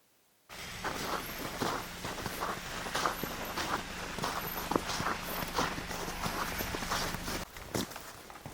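Footsteps on a snowy mountain trail near Chopta in Uttarakhand, a close, steady crunching stride that starts after a brief silence and continues for several seconds.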